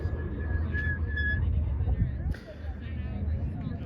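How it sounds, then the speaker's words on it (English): Referee's whistle at a quadball game, a thin steady tone repeated a few times early on, mid-distance over a busy outdoor crowd babble and talk. "The refs already blew their whistle"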